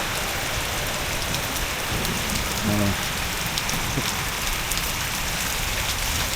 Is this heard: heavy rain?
yes